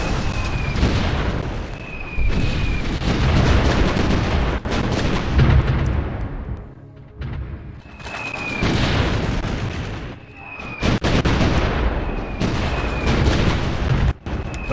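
Airstrike explosions in the strategy game Supreme Ruler Ultimate land as heavy booming blasts in a rapid, rolling series with whistling incoming rounds between them, loud and dense.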